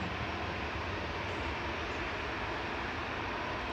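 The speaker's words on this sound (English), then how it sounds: "The TUI from Corfu is just about to touch down on 23 right" A TUI Boeing 737 MAX 8 touches down on runway 23 right at Manchester Airport, a steady broadband jet roar that holds level and close for a few seconds with no voices over it.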